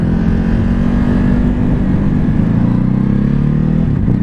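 A Ducati Hypermotard SP on its stock exhaust drones loudly and steadily while being ridden, a close, continuous engine note with slight pitch shifts and no talking.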